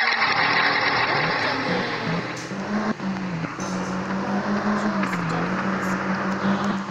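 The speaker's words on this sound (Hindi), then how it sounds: "हम लोग भगाते हैं कार" A car driven fast in the mobile game Indian Car Simulator 3D, a steady synthetic engine drone holding a fairly constant pitch with small wavering shifts, loud and close.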